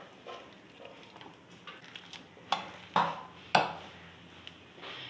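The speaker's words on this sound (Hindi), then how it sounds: "मैशर की मदद से अपने आलूओं को मैश कर लेते हैं।" Boiled potatoes mashed with a masher in a bowl: soft, muffled squashing followed by three sharp knocks spaced about half a second apart, close and moderately loud.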